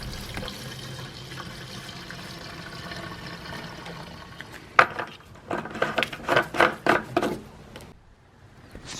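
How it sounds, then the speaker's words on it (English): Gasoline poured into a snow blower fuel tank with a Tecumseh engine, a faint trickle at first, then a burst of gurgling, glugging splashes before it tapers off. "I'm putting in just maybe a quarter tank of gas"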